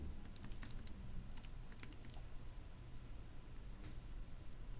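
Keyboard typing, faint scattered key taps in short clusters set against a steady background hiss and hum, with no speech.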